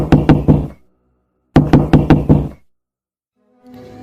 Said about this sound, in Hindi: फिर से गेट खटखटाने की आवाज़ आती है